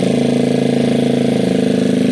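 A Gilera DNA scooter engine running close by, a loud, steady idle with an even rapid pulse and no other sounds over it.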